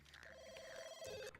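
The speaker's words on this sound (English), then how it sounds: "Wake up and answer the phone." A telephone rings in The Sims 2, a brief electronic trill heard once, fairly faint and with no talking over it.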